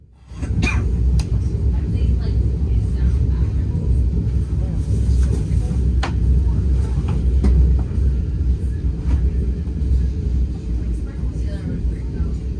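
Brightline passenger train riding toward Fort Lauderdale, a steady loud low rumble of the moving train heard from inside the car, with faint clanks and a voice speaking over the noise.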